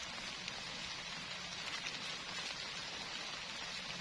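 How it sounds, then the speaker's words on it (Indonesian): Heavy rain drums steadily on a leaking camping tent during a windy overnight solo camp, a dense, continuous hiss of drops close overhead with no letup and no voices. "nambah terus hujannya."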